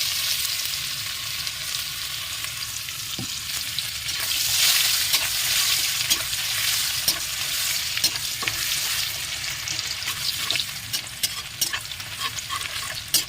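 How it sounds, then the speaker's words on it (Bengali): Two chopped onions frying to light golden in a pan: a continuous bright sizzle with frequent scraping and tapping of a spatula as they are stirred, steady and close for the whole stretch. "এখানে আমি দুটো পেঁয়াজ কুচিয়ে নিয়েছিলাম বন্ধুরা দেখুন দেখুন হালকা গোল্ডেন করে ভেজে নিয়েছি"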